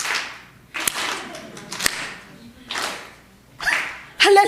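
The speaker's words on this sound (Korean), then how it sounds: "다시 한번 주님께 영광의 박수 올려드립니다" A congregation claps hands during a Korean church sermon: loud, sharp bursts of clapping come in uneven groups, separated by short pauses, with some voice mixed in.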